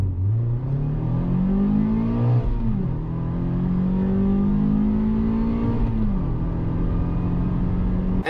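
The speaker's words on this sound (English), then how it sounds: "this is my Mazda MX-5 Roadster, and this is how it sounds like normally." A Mazda MX-5 Roadster engine runs healthily, rising steadily in pitch through two smooth accelerations with brief dips between, loud and close with no talk.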